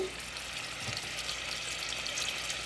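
Prawns coated in salt and turmeric fry in hot oil, giving a steady, even sizzle with soft crackle that holds at one level throughout, with no talk.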